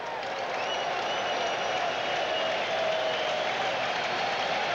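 Crowd at a 1985 Cubs vs Mets baseball game at the Mets' stadium, standing and cheering for New York, a steady broad roar of applause and voices filling the whole stretch at moderate loudness.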